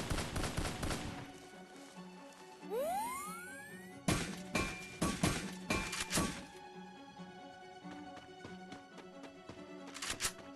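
Gunfire in a shooting video game: sharp repeated shots in bursts, with a rising whoosh midway and heavier blasts clustered near the middle, over a steady game backdrop without talk.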